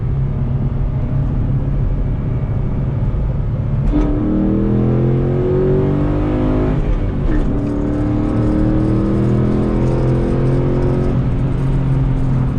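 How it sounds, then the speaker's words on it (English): A 2007 Shelby GT engine revs hard through a climbing RPM range from inside the car while driving, a loud roar rising in pitch in two sweeping pulls over steady road noise, with no talking. "We'll go up. See what an RPM climb."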